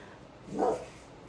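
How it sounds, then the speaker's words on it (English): A single short dog bark, somewhat muffled and off to the side, heard alone against a quiet room. "Oh, you heard my puppy."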